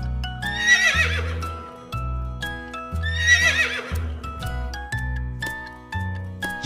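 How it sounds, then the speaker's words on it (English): Two loud horse whinnies ring out, separated by a pause, over rhythmic music with clip-clop-like beats. "Horse."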